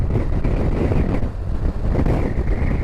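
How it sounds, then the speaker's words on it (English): Steady, loud wind buffeting the microphone, a broad continuous rumble with slight dips, over choppy water on the Connemara coast of Ireland. "Oh, it's windy down here."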